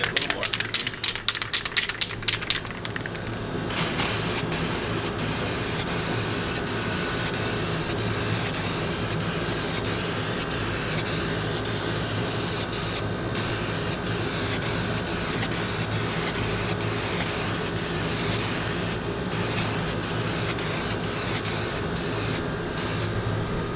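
A spray can hisses continuously as it lays a thick, paint-like coating onto engraved wood from about ten inches away, first in a few short bursts and then in one long, loud, steady spray.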